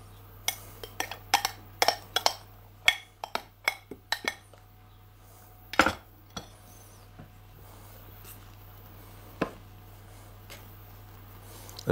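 A rice cake mixture folded gently with egg white, heard as scattered soft clinks and taps of a utensil against a bowl over a quiet low hum, with irregular gaps and no talking.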